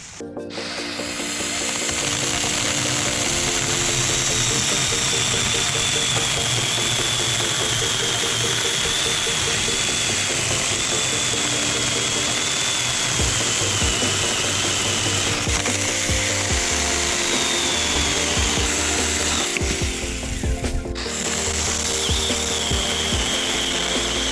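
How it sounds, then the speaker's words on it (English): A Saker mini electric chainsaw cuts through thick wood sticks with a loud, continuous high-pitched motor whine and rasping chain bite, dipping briefly between cuts before it revs again. "So let's cut some of these big ones up and see what the saw can do."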